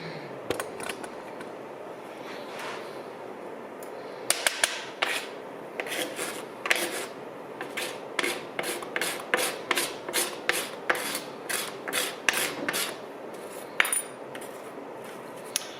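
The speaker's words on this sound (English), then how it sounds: "grabbed a razor and started scraping it up, and actually it works pretty good" A razor blade scrapes up old dried milk in a long run of short rasping strokes, slow and irregular at first, then a quick steady rhythm of about a dozen close, distinct scrapes with no talking.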